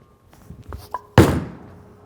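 A PBA Inferno bowling ball released onto the lane lands with a sudden heavy thump, followed by a rumbling roll that fades away after a few soft knocks and shuffles just before.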